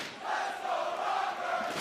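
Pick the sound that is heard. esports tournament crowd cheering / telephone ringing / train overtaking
esports tournament crowd cheering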